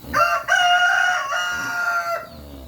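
A rooster crows loudly and close by in one long, strained call, with faint clucking and farmyard noise underneath.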